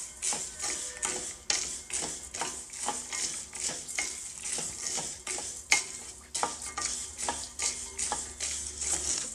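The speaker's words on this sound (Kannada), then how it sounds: "8 ರಿಂದ 10 ನಿಮಿಷಗಳ ಕಾಲ ಈ ಥರ ಕೈಯಾಡಿಸ್ಕೊಳ್ತಾ ಹುರ್ಕೊಳ್ಳಿ" Lentils and grains are stirred and dry-roasted over a low flame in a thick-bottomed pan for homemade baby cereal, giving repeated scraping strokes and a soft, steady sizzle, close and alone.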